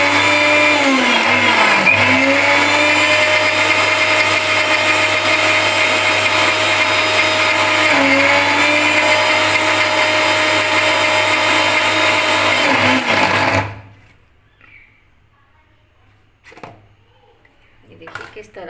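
A mixer grinder whirs loudly and steadily while blending roasted peanuts into peanut butter, its motor dipping briefly a couple of times before cutting off abruptly, followed by near silence and faint clatter.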